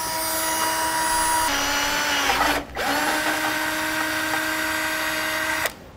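A power drill runs steadily while boring holes on the passenger side of a 2002 Honda CR-V to fit a Blue Ox base plate, a continuous whine that dips briefly once before stopping near the end.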